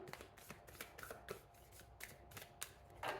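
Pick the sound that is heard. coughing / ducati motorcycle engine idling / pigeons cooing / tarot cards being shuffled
tarot cards being shuffled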